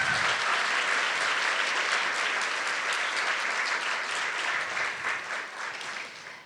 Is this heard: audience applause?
yes